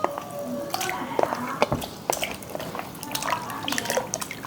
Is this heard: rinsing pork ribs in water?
yes